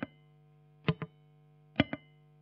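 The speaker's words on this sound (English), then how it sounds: "I used a carbon copy analog delay for a slapback" Distorted electric guitar plucks through an analog slapback delay, each note followed by one quick echo, sparse single hits with a steady hum underneath.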